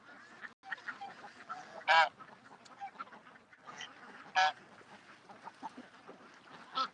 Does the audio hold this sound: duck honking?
yes